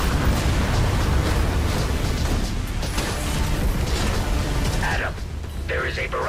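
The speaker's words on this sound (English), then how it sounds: "Fire all reserve torpedoes at once." A barrage of torpedoes fired in the space-combat game Everspace 2 makes dense, continuous explosive rumbling with bursts and booms, loud throughout, with mechanical clatter and a voice speaking near the end.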